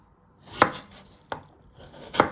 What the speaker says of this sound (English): you first chop it down the middle, then you chop it